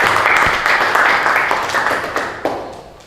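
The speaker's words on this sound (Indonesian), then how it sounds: "Tepuk tangan untuk kelompok kedua." Classroom applause for a student group, a short burst of many hands clapping that fades over a few seconds, with faint voices underneath.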